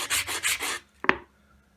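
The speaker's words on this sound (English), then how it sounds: "You can do an awful lot of shaping with the stone just on this very coarse sandpaper." Stone rubbed back and forth on very coarse sandpaper while shaping a simple carved form: four close, loud gritty scraping strokes in a steady rhythm, then a single sharp knock and brief settling, with no talking.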